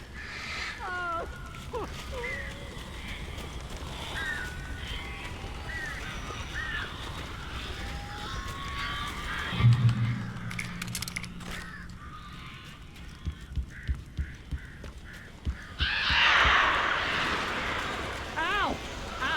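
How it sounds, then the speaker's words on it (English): Crows caw in repeated short harsh calls in the Alan Wake video game, mixed with rain-like hiss, a low rumble and scattered knocks, while voices talk over much of it. "These birds are weird."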